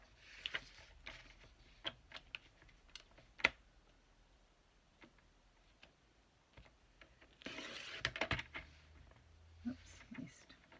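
Paper trimmer slicing paper for a larger-size journal: a few sharp isolated cuts and taps scattered through the clip, with quiet talking at times.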